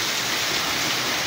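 Heavy rain pours down in a dense, steady, loud hiss, continuous and close, with no other sounds standing out.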